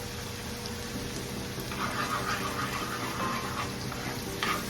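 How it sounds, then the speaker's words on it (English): Garlic, onions and seasoning for saltfish and tomatoes sautéing in a pan, giving a steady soft sizzle with light scraping and stirring throughout, fairly close and with no voices. "I'm gonna let this saute for like a minute."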